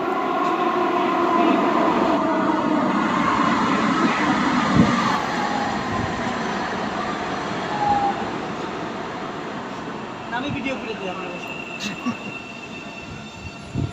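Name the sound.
Ottawa metro rail train arriving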